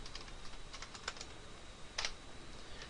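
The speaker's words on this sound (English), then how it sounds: "Now go ahead and type regedit and press enter." Fingers typing a short word on a computer keyboard and pressing enter, a quick run of light close key taps followed by a firmer keystroke, in a quiet room.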